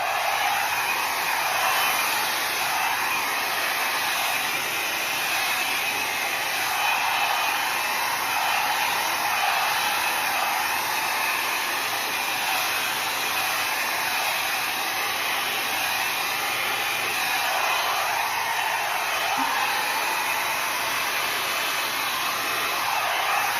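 A hair dryer blows steadily over wet acrylic paint in a Dutch pour, a constant close airy whoosh lasting the whole stretch with no voices.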